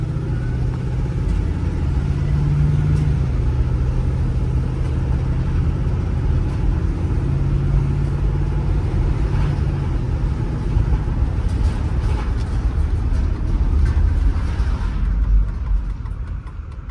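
A 1999 Chevy Express G3500 cargo van driving on the road, with a steady loud engine drone and low rumble throughout, no talk over it.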